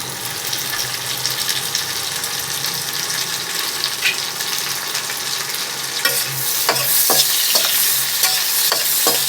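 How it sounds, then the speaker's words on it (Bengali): Chopped tomatoes hit spiced oil in a pan for a Bengali curry, giving a steady sizzle that swells partway through, then sharp, repeated scraping strokes as the mixture is stirred. "এবার এই মশলাটা যে হচ্ছে তার ভেতরে আমি দিয়ে দেবো টমেটো কাটা। এইভাবে টমেটো কুচিগুলো আমি দিয়ে দিচ্ছি।"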